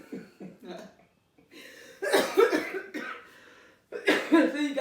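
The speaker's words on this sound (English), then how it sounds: "you got me over here coughing and hackling" A few short coughs and throat-clearing bursts, close and loud, mixed with brief talking and a pause of quiet in between.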